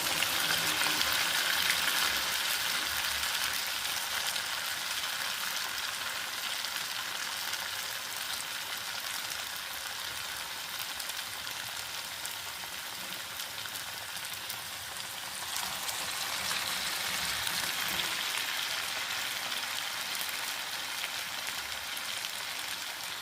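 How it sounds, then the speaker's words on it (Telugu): Food roasting in a pan over a low flame gives a steady, soft sizzle and crackle that runs unbroken throughout, like light rain, with no voices. "లో ఫ్లేమ్లో పెట్టుకొని కాల్చుకోండి"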